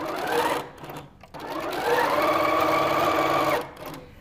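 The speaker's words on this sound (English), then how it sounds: "We can take these over to our machine, and we're going to sew 1/4 inch on the right side." Sewing machine running steadily while stitching a quarter-inch seam along rows of pieced fabric for a pumpkin quilt block, one short burst then a longer continuous run with a brief pause between, close and clear.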